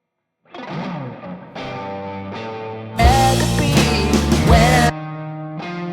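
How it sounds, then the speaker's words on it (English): Rhythm electric guitar with slight distortion, a low, buried part played in separate sustained chords and notes, with a denser, brighter strummed passage in the middle, loud and close with no talking. "there's a third rhythm guitar part that's sort of buried in the mix"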